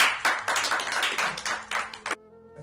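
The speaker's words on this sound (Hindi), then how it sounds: "आप सब लोगों के स्वागत की तैयारी कीजिए और ताली वाली दीजिए।" An audience claps at a Hindi poetry recital held for Republic Day. A dense burst of applause from a hall full of people lasts about two seconds and then cuts off sharply into quiet.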